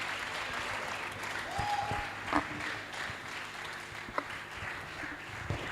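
Sustained audience applause at a children's book launch, a steady wash of many hands clapping with a few sharper nearby claps and faint crowd murmur underneath.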